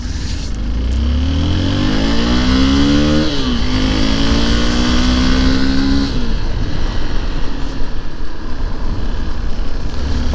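A vehicle engine drives and revs loudly and steadily, its pitch climbing through repeated rises and dropping back between them, with no voices over it.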